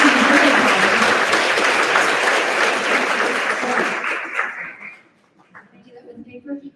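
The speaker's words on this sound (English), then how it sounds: "Let's give a round of applause for our ASL interpreters who are making a great job." Audience at the inaugural APIDA Arts Festival gives a loud, dense round of applause for the ASL interpreters, sustained for several seconds before thinning out into scattered claps.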